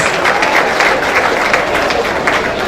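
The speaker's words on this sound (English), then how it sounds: "A round of applause for Napa." Applause at the closing banquet of a national pharmaceutical society conference, a continuous wash of many hands clapping at an even level throughout, with faint crowd murmur beneath.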